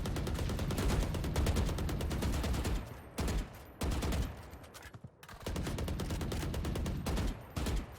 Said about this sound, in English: we're gonna see these bullets being exchanged in mid